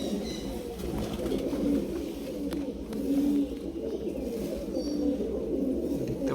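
Female pigeons cooing in a sectioned home loft in Kolkata, a dense continuous low murmur of many birds close by, with no talk.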